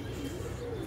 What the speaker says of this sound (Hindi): ये सब कल्दुमे कबूतर।